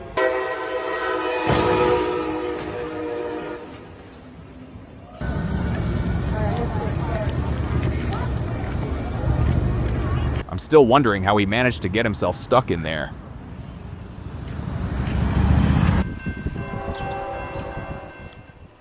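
A train on railroad tracks in Miami, where an unattended SUV had become stuck, rumbles loudly with blasts of its horn, shifting between loud passages, while a person talks over part of it.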